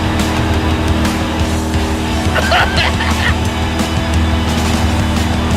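A Camaro does a long, sustained tire burnout on the beater burnout machine, a loud, continuous roar of engine and screeching rubber that keeps going without a break, with brief shouts over it.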